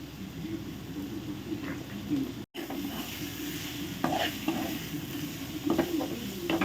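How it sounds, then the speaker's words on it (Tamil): Dried anchovies (nethili karuvadu) frying in a pan, a steady sizzle with intermittent scraping stir strokes, close up and continuous, one brief dropout midway. "நெத்திலி கருவாடு வறுவல்."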